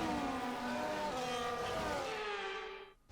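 Formula 1 cars in a racing video game drone past with a steady high engine whine that slowly drops in pitch, loud and continuous before cutting off abruptly at the end, with no talking.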